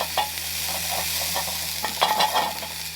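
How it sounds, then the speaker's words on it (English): A knife cutting into a steak cooked over a campfire outdoors, soft scraping strokes and faint sizzling over a steady background hum, close and without speech. "It's time to cut into the steak."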